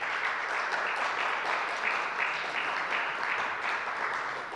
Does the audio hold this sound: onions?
no